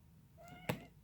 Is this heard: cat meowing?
yes